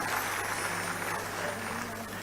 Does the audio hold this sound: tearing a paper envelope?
no